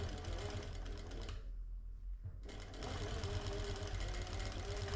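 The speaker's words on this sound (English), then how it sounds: "Sew a permanent stitch line, reinforcing the beginning" A sewing machine runs steadily while stitching a permanent line below a zipper, with a dense mechanical whir that dips briefly in the middle as the stitch is reinforced, then resumes at full speed.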